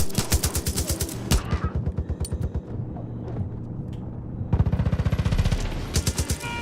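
Gunfire in a video game: rapid, evenly spaced automatic bursts with a pulsing rhythm, loud and close, pausing briefly mid-way before a second dense burst.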